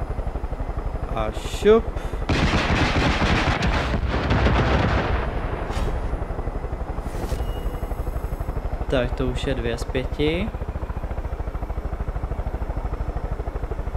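A helicopter flying in the Far Cry 5 video game, a steady engine and rotor drone running throughout with bursts of louder game noise and someone talking over it.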